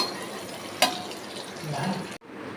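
Raw mango, tomato and green chilli being turned over in hot oil in a pan on low flame, with a sharp clatter of the spatula followed by a steady, moderate frying sizzle and gentle stirring scrapes.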